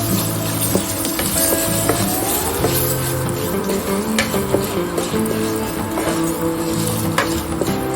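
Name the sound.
okra sautéing in a pan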